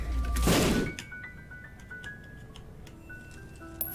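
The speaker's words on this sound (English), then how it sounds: "Don't know why it exploded there, but it did." A bomb going off in The Binding of Isaac Afterbirth+ gives one loud, low burst that fades within about a second, then quiet game tones and small clicks follow.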